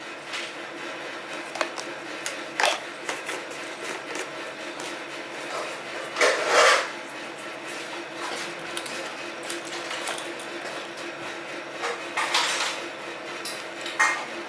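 Spices, including raw cumin, being ground together in a home kitchen for a Lote fish chop: a steady low whirr broken by several sharp clattering bursts at irregular intervals.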